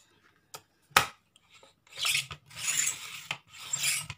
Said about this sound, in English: I'll score it and then I'll cut it.